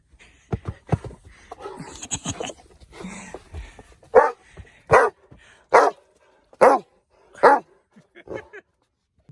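A dog in a playful mood letting out a string of sharp, evenly spaced barks up close, preceded by some yips and whimpers mixed with a person's speech.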